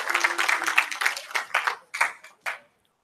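A small audience at a senior kickoff gathering gives a light, polite golf clap: scattered, soft claps in uneven bursts that thin out into a few isolated pats before stopping.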